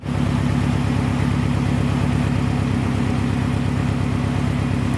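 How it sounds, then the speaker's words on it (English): Subaru STI engine idling on a cold day, a steady low rhythmic burble held evenly throughout, loud and close with no voices. "That's why I'm just letting it idle for a while before I drive it tomorrow."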